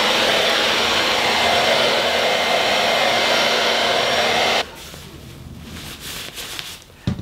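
Blow dryer roaring steadily under an inflated hair-drying cap, loud and close, then cutting off abruptly partway through, leaving faint rustling and handling noises.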